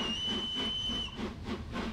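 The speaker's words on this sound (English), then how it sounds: "What do you guys think of the new whistle for Flying Scotsman?" Steam whistle of the Flying Scotsman locomotive in Train Simulator 2021, a steady loud high-pitched tone held for about a second over rumbling engine and hiss, followed by rhythmic chuffing exhaust beats.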